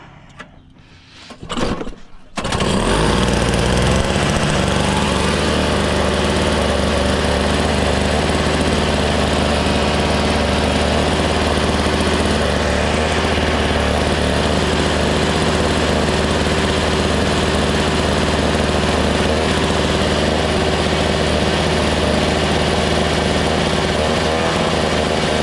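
A small snowblower engine coughs to life after a brief pull and then runs at a loud, steady idle close by for the rest of the clip, with no talking over it.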